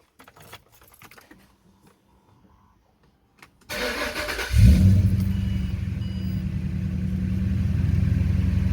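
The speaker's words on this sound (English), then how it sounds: "start it up, good old cold start, and let the booster do its thing." A Ford Falcon BA XR8 V8 engine cold-starts after a few seconds of near silence and faint handling noise: a loud crank catches into a strong, rumbling idle that stays steady and close, with no talk.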